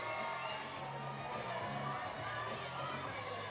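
Crowd at a women's lead climbing competition final in Briançon, a steady murmuring, low-level cheering and shouting that stays fairly even and never builds into a roar.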